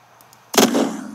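A single sharp, punchy shot from a new assault gun in the video game Unturned cracks out loud and close after brief quiet, with a short echoing tail.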